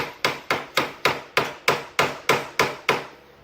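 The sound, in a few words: hammer hitting the side of a Yamaha Grizzly 700 part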